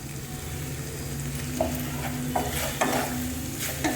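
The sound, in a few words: paneer being stir-fried in a pan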